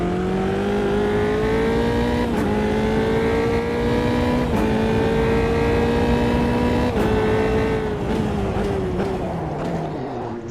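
A truck engine in Euro Truck Simulator drones steadily and loudly, its tone climbing slightly through repeated gear shifts, each marked by a brief click, with no talk over it.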